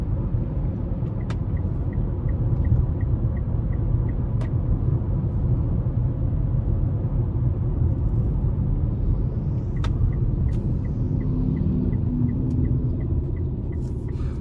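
A 2019 Mitsubishi Outlander SEL with a 2.4L four-cylinder and CVT on the road, its engine and road rumble droning steadily and loudly throughout with a few faint clicks.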